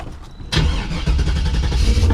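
LS-swapped Grand Fury drag car engine cranking and firing up, then settling into a loud, rough, close idle with a lumpy rumble.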